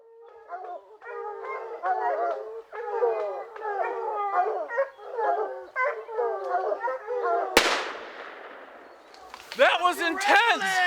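In the Michigan outdoors, a hunting rifle fires one sharp, loud shot at a game animal. Repeated wavering animal calls come before it and continue after it.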